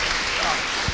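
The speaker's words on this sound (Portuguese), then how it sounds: "Uma salva de palmas, por favor." A church congregation breaks into brief, dense applause during a Sunday service, a full wash of clapping with voices mixed in.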